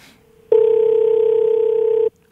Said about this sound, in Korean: 지금 전화 한번 걸어 보도록 하겠습니다.